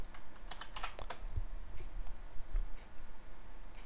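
Quick bursts of keystrokes tap on a computer keyboard while code is written, a busy flurry of light clicks near the start that thins into sparse, scattered taps, close and fairly quiet, with no talking.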